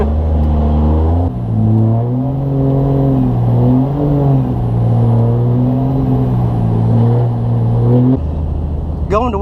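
A car drives through a snowstorm, its engine whirring and rising and falling in pitch as it moves along, loud and close. The drone drops near the end, and a brief squeal follows.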